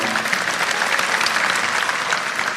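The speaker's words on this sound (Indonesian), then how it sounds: "Kasih tepuk tangan" An audience at a church sermon bursts into applause, with dense, steady clapping from many hands that fills the whole moment without letup.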